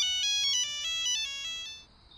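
A voice imitates a mobile phone ringtone, producing a bright, clear melodic sequence of high electronic-sounding notes stepping up and down for about two seconds, close and alone before fading out.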